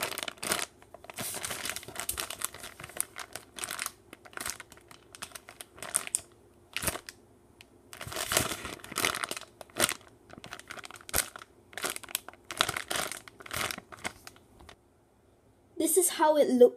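Plastic packaging around a toast-shaped squishy toy crinkles and crackles in irregular bursts as it is handled and opened, close and fairly quiet, with a voice briefly at the end.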